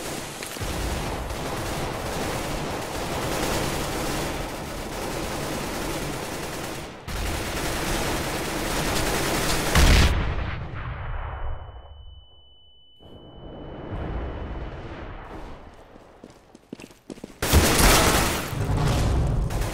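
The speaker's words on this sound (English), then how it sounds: "Laying down smoke. Throwing a grenade." Gunfire and a grenade explosion in the Counter-Strike video game, with sustained loud bursts of rapid shots, a heavy blast around the middle that fades to near silence with a ringing tone, and then renewed shooting close by.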